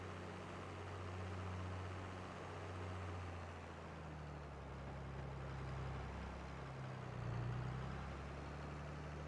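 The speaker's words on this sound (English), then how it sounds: "that's why you're hearing the tractor bog down," In a farming video game, a tractor engine bogs down under load, giving a faint, steady low rumble that dips and strains for several seconds with no speech.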